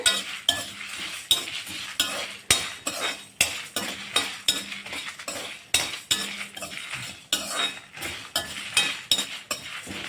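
A utensil scrapes and clinks steadily against a pan as red chillies roast for homemade rasam powder, the stirring strokes coming loud and close in a regular rhythm of about two per second.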